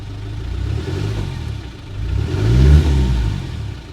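Close, rumbling engine of a 1990s Land Rover Defender, holding a low running note before revving up and then easing slightly.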